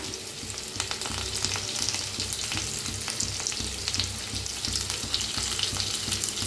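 Crushed garlic and curry leaves fry in hot oil with a dense, steady crackling sizzle, close and continuous, with faint stirring taps mixed in.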